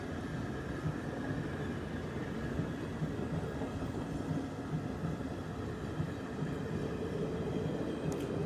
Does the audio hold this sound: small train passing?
yes